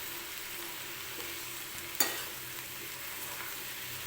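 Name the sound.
stirring spring onion greens frying in a kadhai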